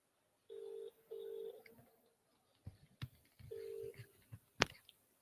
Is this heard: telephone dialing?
yes